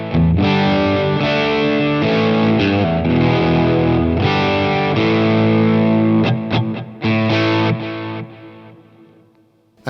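Electric guitar played through a Line 6 HX Effects with delay and reverb at the end of the chain, a loud, sustained distorted tone with chords ringing out and trailing echoes, a few sharp stops near the end, no talk.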